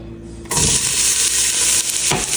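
Onion and garlic hit a hot pan on the stove with a sudden loud sizzle, frying steadily up close with a brief stirring scrape near the end.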